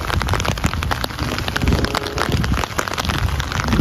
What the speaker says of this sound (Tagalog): Lakas ng ulan na.